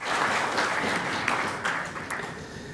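Applause from a conference audience after a speech at a session in Morocco, a dense wash of clapping that gradually fades toward the end.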